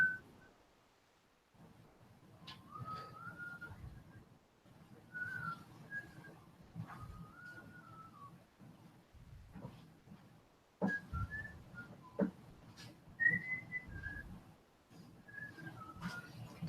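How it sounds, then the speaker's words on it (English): Cheerful melodic whistling in short phrases, repeated several times over a low background hum, fairly close and clear. "The whistling you hear, the happy workers inside of Teleios."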